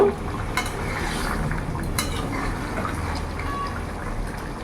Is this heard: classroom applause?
no